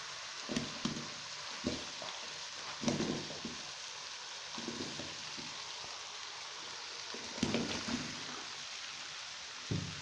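Vegetables and onion added to hot spiced oil in a pan for restaurant-style aloo gobi, a faint steady sizzle broken by occasional louder stirring scrapes and clatters.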